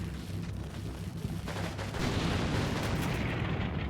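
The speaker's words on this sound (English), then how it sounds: "Yep, they're shooting from over there." Gunfire rattles in the Combat Mission war game set in Poland, 1945, a burst of overlapping shots and distant booms that thickens into a dense, continuous volley in the second half, with no talking.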